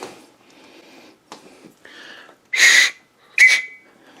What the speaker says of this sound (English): bobby whistle